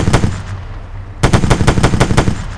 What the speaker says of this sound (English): It's a 50 cal machine gun.